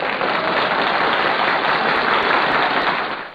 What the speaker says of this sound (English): It's a golf clap.